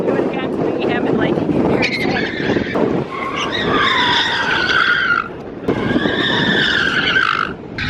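Mazda Miata tires squealing in long high-pitched bursts as the car drifts into a parking space, loud and close, with people talking and shouting over the engine.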